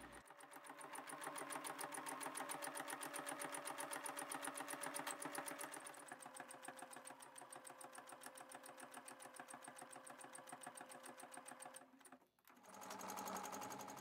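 A sewing machine stitches connecting circles for free-motion thread sketching, running in a fast, steady rhythmic whir that briefly slows and pauses before starting up again, close and alone.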